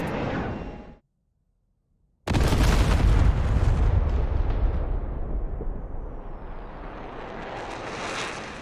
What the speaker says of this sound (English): I've got my targets in, rockets away.